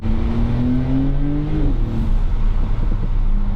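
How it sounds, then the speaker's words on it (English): A 2021 Porsche 911 Turbo S engine revving under load, its pitch climbing steadily then dropping sharply at a shift before rising again, loud and close with a throaty exhaust tone and audible turbo. "you hear the turbo, sure, but you hear some exhaust now too"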